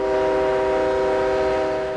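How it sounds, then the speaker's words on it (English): Train engines on a coal railway line, a steady sustained tonal drone like a horn or engine hum held loud and unbroken for two seconds with a rumbling low end. "eventually allowing the train engines through without the coal"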